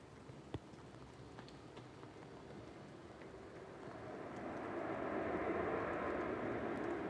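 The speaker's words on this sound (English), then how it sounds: "Ryanair from Murcia coming over the threshold now" A Ryanair Boeing 737-800 from Murcia comes over the runway threshold at Manchester Airport, its engine noise rising from a quiet background into a growing, fairly distant roar over the last few seconds.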